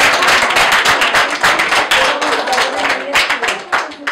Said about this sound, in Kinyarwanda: reka dukome amashyi cyane mu izina rya Yesu